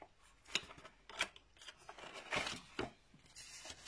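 Cards being pulled out of their boxes, a close series of papery scrapes and slides, quiet and irregular, with no talking.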